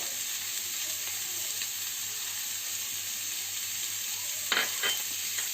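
Shrimp frying in a hot pan make a steady, bright sizzle held close and even throughout, with a brief burst of stirring and scraping toward the end.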